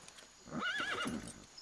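A horse gives a single quavering neigh, soft and somewhat distant, rising and falling over about half a second against a quiet background.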